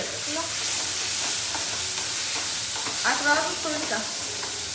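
Onion sautéing in a pan for late-night Maggi noodles, a continuous close sizzle with stirring scrapes, brief voices faintly underneath.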